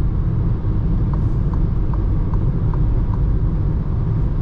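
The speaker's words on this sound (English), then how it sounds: "there's a little bit of wind noise coming from the side mirrors" Steady broadband wind rush from the side mirrors of a 2021 Citroen C4 Shine with a petrol engine, cruising at about 130 km/h, blended with low road and engine rumble, constant and even throughout.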